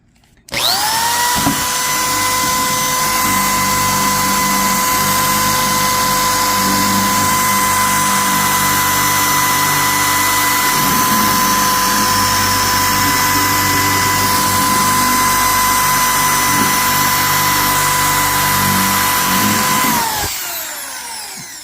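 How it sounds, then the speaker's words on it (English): A power drill whines at a steady high pitch for about twenty seconds without pause, loud and close, then spins down, while drilling holes for an oil cooler install on an Infiniti M45 with a VK45DE engine. "So let's go ahead and drill these out."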